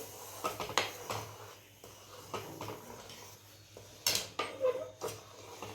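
Roasted gram flour being stirred into milk in a metal pot, a series of close clinking and scraping spoon strokes against the pot, fairly soft and irregular, with no talking.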